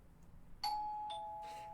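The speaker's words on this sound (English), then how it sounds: "I ring the doorbell." A doorbell in a video game chimes once with a clear two-tone ding-dong that rings out and fades slowly in a quiet room.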